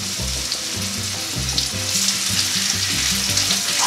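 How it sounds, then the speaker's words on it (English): Pork tenderloins sear in a tablespoon of olive oil in a pan, giving a continuous close sizzle and crackle, with a low, rhythmic tonal background running underneath throughout. "what I have in my pan is about a tablespoon of olive oil, and we're going to give our tenderloins a nice sear."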